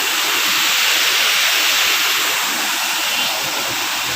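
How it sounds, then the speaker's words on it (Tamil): The fifth waterfall on Pothigai hill pours down in a loud, steady, unbroken hiss of falling water, heard close with no voices. "இது வந்து 5வது ஃபால்ஸு"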